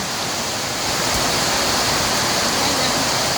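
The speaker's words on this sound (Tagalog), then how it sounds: "Naabutan ako ng ulan." Steady heavy rain pours on a farm near a swollen river, a dense, even hiss with no breaks and no talk.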